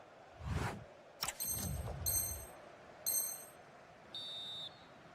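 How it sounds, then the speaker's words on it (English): Referee whistle in an eFootball match between Italian league sides, sounding several short, high, clean blasts over a faint stadium crowd bed, with soft low thuds in between and no commentary over it. "The whistle sounds and the second half gets going."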